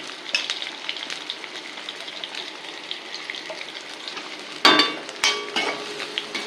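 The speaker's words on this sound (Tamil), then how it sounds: "இப்போ என்ன பண்ணுறேன், இதெல்லாம் வறுக்கிட்டு விடுறதுனால நான் வெங்காயத்தை போடுறேன்." Onions go into a hot pan for Andhra-style pesarattu dosa stuffing and fry with a steady sizzle and light stirring. A louder burst of crackling follows the drop-in, then sharp sizzling pulses.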